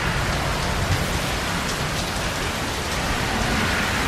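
Heavy monsoon rain pours down steadily in Green Valley, Arizona, a dense, loud hiss of drops drumming on surfaces with no break.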